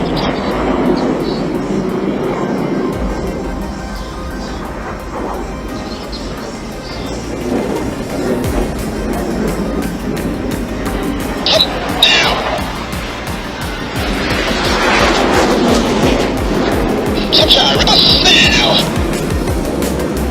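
An aerobatic jet display team flies a double cross turn maneuver at an air show, its engines roaring and swelling in loud passes over a busy crowd, with an announcer's voice heard over the noise.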